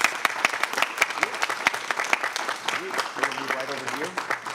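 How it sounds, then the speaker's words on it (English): Applause in a county commissioners' meeting room welcoming guests recognised for Pride Month, a round of close, sharp clapping with people talking over it toward the end. "If you all can welcome them with an applause"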